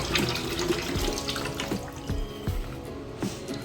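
A kitchen tap runs water steadily while tomatoes are peeled in a village-style kitchen, with a constant splashing stream and a few soft knocks and drips close by, and no voices.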